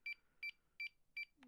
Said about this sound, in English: See, it beeps once.